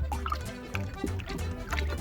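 Homemade dishwashing liquid is stirred vigorously into water, making close, rhythmic sloshing and squelching pulses that repeat several times a second without pause.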